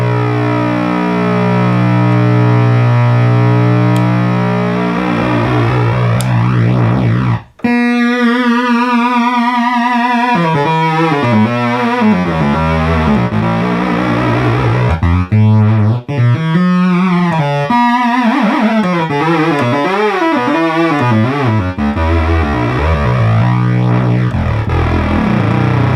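Minimoog synthesizer oscillators swept by oscillator 3 acting as an LFO, loud buzzing tones whose pitch wobbles and warbles in cycles, with a brief cut before the modulated sound resumes and continues.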